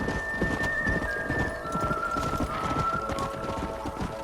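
Horses galloping in the Red Dead Redemption video game, rapid rhythmic hoofbeats close by with a horse whinnying partway through, steady across the whole stretch.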